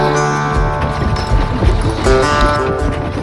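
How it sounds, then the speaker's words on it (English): Horses pulling a covered wagon on the Oregon Trail in Wyoming, hooves clip-clopping close by with rattling and creaking under a busy outdoor mix. "pretty sweet wagon train."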